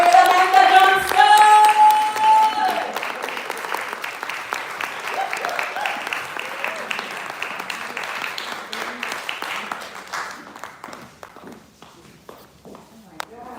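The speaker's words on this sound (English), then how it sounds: "Please, another round of applause for Andrea." An audience at a poetry reading applauds in dense, loud clapping that gradually thins and fades into scattered claps, with a voice briefly audible at the start.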